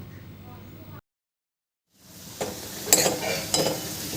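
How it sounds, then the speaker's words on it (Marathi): Carrots stir-fry in a pan for street-style masala Maggi: a short stretch of low cooking noise, a second of silence, then rising sizzle with clinking, scraping stirs. "याला छान दोन तीन मिनटं परतून घ्यायचं आहे छान शिजवून घ्यायचं आहे"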